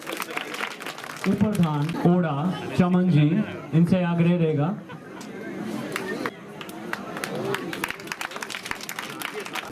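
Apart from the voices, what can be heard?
children clapping, applause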